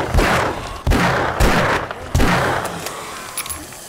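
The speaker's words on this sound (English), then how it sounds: "now I'm gonna have to use this loud gun" Gun fired in the survival horde game 7 Days to Die: four loud, sharp shots spaced roughly half a second apart, each with a booming low tail, followed by fainter scattered impacts.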